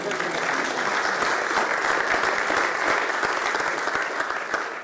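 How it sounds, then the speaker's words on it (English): Loud, dense applause from a conference audience after a live web animation demo, continuous clapping at a steady, close level for the whole stretch without any talk over it. "get a round of applause"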